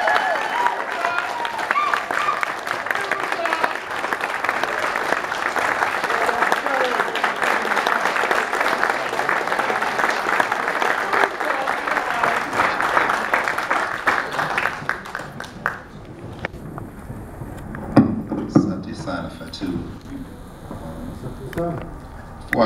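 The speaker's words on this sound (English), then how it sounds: "I would like everyone to give a round of applause to Dr." An audience at an African Liberation Day event applauds a speaker with sustained, dense clapping that fills the hall for about fifteen seconds, then thins out into scattered claps and faint talk.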